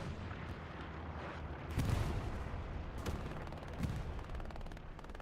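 Artillery fire in the Hell Let Loose video game: a continuous wash of distant battlefield rumble broken by a few heavier, muffled booms, fairly quiet overall, with no talk over it.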